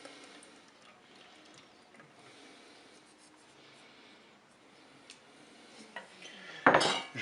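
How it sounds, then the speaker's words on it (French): Flan batter is stirred in a salad bowl with faint, light scraping and ticking of a utensil against the bowl, ending in a brief, louder clatter. "Je mélange."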